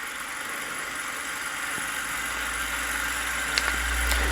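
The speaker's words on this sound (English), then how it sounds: "the new Banggood Stirling engine with the vertical flywheel" Small Banggood Stirling engine with a vertical flywheel, running on methylated-spirit burners, giving a steady, smooth whir and low mechanical hum at close range, with faint ticks near the end.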